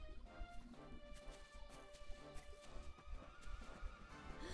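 Horses in the Dragon Quest XI game whinnying amid clattering hooves and scattered knocks, faint and busy over a dense background, with no speech.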